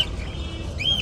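Small caged birds at a bird market chirp in quick, high bursts over a steady low background hum, fairly close.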